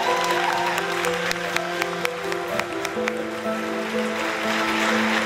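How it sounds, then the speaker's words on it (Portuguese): Loud applause from a church congregation during a service, a dense wash of clapping with sustained organ or keyboard tones beneath and a few sharper claps standing out. "Aplauda bem forte ao Senhor."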